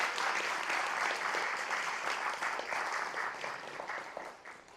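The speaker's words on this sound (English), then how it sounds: "So can we get a round of applause for that, please?" An audience at the grand inauguration of the Animation and VFX Artists Association of Nepal gives dense, close applause that slowly tapers off.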